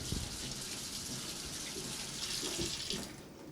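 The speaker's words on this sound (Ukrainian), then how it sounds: "Далі плата відмивається в проточній воді" A circuit board is rinsed under running tap water and scrubbed with brushes, a steady close gush of flowing water with occasional splashes and brush scrapes, no talk.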